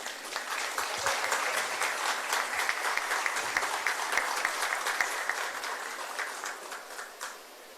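An audience at a government event launching a chief minister's solar energy policy claps loudly and steadily for about seven seconds to welcome Chief Minister Hemant Soren, then the applause tapers off, with no voices over it.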